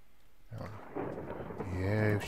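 Rumbling thunder rolls through a Minecraft thunderstorm, building over a couple of seconds with low booming swells, while a voice talks over it.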